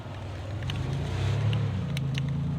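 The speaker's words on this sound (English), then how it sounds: "I'm just gonna let this kind of car go by real quick." A car passes by on a street, a low, steady engine rumble that swells toward the middle and then eases off, with no talking over it.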